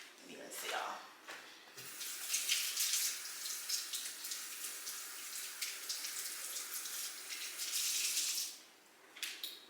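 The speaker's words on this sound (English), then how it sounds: "And now I'm going to rinse it off." Water runs from a tap while skin is rinsed, a continuous hissing splash that swells and ebbs, with someone talking over it.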